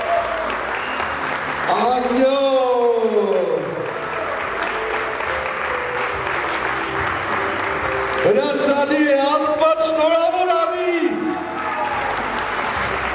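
Sustained loud applause from guests at an engagement party for the couple Vahe and Arina, filling the whole stretch while a presenter speaks over it.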